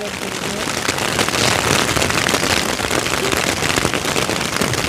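Heavy rain falling steadily outdoors, a dense continuous patter and hiss on surfaces near an outdoor cooking fire, with a voice talking in the background.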